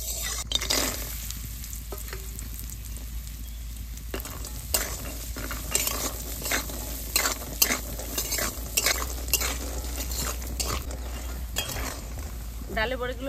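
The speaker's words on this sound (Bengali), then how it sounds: "ডালের বড়িগুলো লাল লাল করে ভেজে নিয়েছি" Lentil dumplings (bori) fry in mustard oil with a steady sizzle, while a spoon stirs and scrapes the pan in repeated close clinks and knocks.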